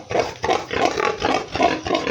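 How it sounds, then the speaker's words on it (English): A healthy farm pig grunts and snorts in a rough, repeated rhythm, loud and close, with several throaty bursts in quick succession and no talking. "Very healthy pig, viewers."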